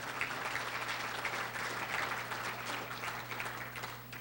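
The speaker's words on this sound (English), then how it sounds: "Let's give Lee Zane a nice round of applause" Steady audience applause at the Lucas Oil awards ceremony in Hollywood, California, honoring racer Lee Zane and his wife, a dense, continuous clapping wash that holds at a constant level, with no voices over it.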